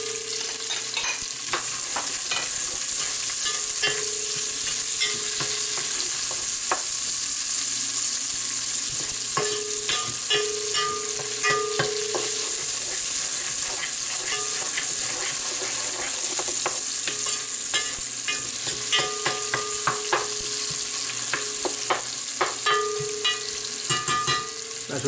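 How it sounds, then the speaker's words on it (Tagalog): Onions being stirred into hot oil in a pan for sautéed mung beans with pork belly, giving a continuous close sizzle with repeated scraping and clinking of the spoon against the pan throughout. "ilagay na natin po ito sibuyas."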